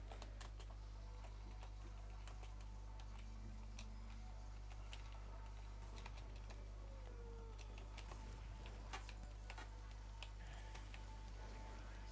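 Typing on a computer keyboard: quiet, scattered key clicks in an irregular rhythm over a steady low electrical hum, with no talking.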